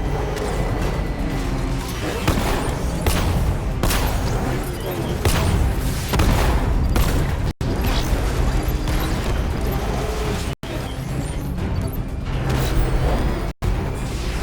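Loud, sustained combat din from Batman Arkham Knight, with dense booming impacts and rumbling mechanical noise running nearly unbroken for the whole stretch, briefly cut by a few sharp dropouts.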